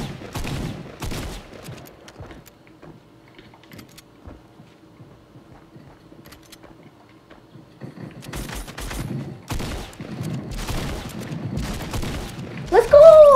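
Fortnite gunfire crackles in scattered bursts, loud at the start, then quiet, then returning as dense rapid shots and booms toward the end, mixed with players talking and a rising shout.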